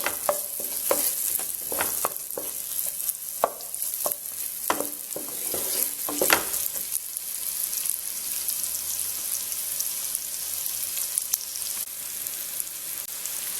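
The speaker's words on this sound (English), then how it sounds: "Now I'm adding finely chopped onions." Finely chopped onions stir-fry in a pan for chicken noodles, a close steady sizzle with a quick run of clinks and scrapes from stirring early on before it settles into even frying.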